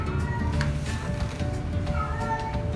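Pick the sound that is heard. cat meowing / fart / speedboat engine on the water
cat meowing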